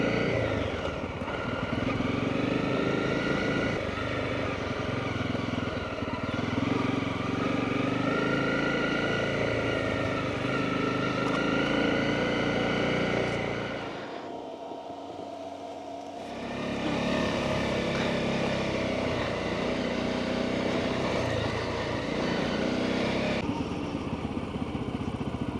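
A motorcycle rides down a sand slope in the Slovakian desert, its engine droning loudly and steadily for about fourteen seconds, dropping briefly, then revving strongly again for the rest of the run.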